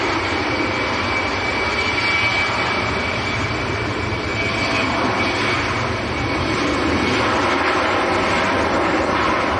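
A heavy airliner arriving at Manchester Airport on a windy day, a steady loud roar of engines with a broad rumbling wash and a thin whine, continuous and without talk.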